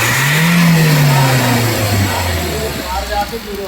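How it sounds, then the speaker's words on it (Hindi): A car engine revs hard at full throttle during sensor testing, its pitch climbing then sliding back down as the throttle eases, loud and close, with faint talk underneath. "अब एकदम से रेस देना है"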